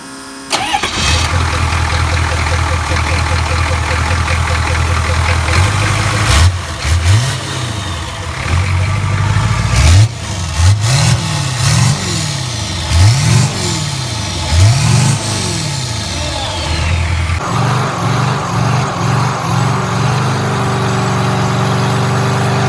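A 1972 Chevy Nova with a 6.2 liter turbo diesel engine cranks over in a series of loud, rhythmic starter pulses over a steady mechanical whir, then catches and settles into a rough, throbbing idle, close up with no talk.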